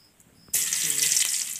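Garlic, chili, cumin and mustard seeds drop into hot oil in a home kitchen, setting off a sudden loud, steady sizzle after a quiet start, with a faint voice underneath.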